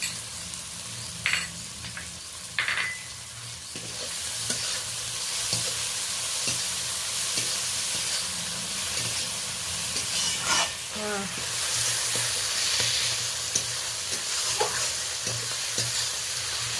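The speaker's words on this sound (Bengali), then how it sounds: "আদা, রসুন, টমেটো, কাঁচা লঙ্কা, পেঁয়াজ বেশ ভাজা ভাজা হয়ে গেছে" Ginger, garlic, tomato, green chilli and onion sizzle in a pan for a fish-head curry with pointed gourd, making a steady frying hiss broken by occasional scraping stirs and clinks.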